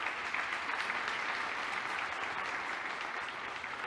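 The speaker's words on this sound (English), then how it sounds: "I would like to ask a big applause for our 3 projects." Steady, dense applause from a conference audience acknowledging three projects, a continuous wash of many hands clapping at moderate distance with no voices over it.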